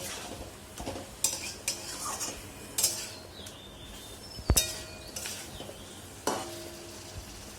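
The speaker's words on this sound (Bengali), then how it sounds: "মোটামুটি মিনিট 2 একটু এইভাবে সাঁতলিয়ে নিলেই ওর মধ্যে মশলাগুলো, মানে চিংড়ি মাছের মাথা, এর মধ্যে মশলাগুলো খুব ভালোভাবে ঢুকে যাবে" Prawn heads sautéing in a spicy masala gravy for a Bengali prawn malai curry, with a steady sizzle under sharp clinks and scrapes of a utensil stirring against the pan.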